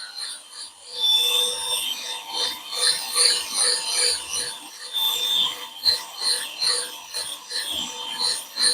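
A Let's Resin 4-in-1 sanding and polishing machine runs with a fine 5,000-grit pad, making a steady high whine under a rhythmic, pulsing rasp of abrasive rubbing.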